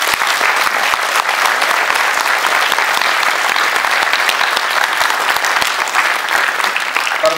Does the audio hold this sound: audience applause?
yes